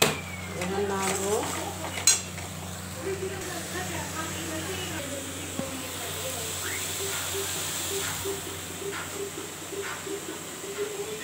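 Potato curry of gathi kochu and aloo is stirred in a pan, with scraping and light clinking of a spoon against metal under a steady sizzle, alongside some background sounds.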